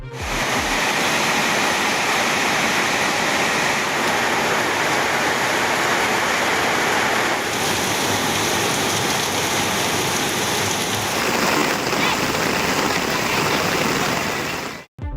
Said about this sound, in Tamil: காலை முதலே சுமார் 1 மணி நேரத்திற்கும் மேலாக கனமழை வெளுத்து வாங்கியது